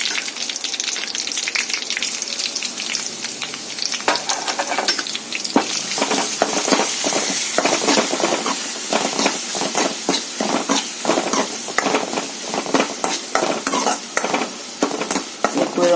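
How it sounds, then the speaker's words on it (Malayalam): A paste of ginger, garlic and pepper sautés in a pan, sizzling loudly and steadily while a spoon scrapes and stirs in quick repeated strokes, close up and without talk. "ഇഞ്ചി വെളുത്തുള്ളി കുരുമുളക് പേസ്റ്റ് പോലിട്ട് അത് നന്നായിട്ട് പച്ചമണം മാറുന്നിടം വരെ മൂപ്പിക്കണം"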